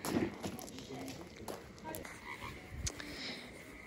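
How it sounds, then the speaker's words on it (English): Frogs croak at a pond during an evening walk, with repeated low calls rising over footsteps and nearby people talking. "Do you hear the frogs, guys?"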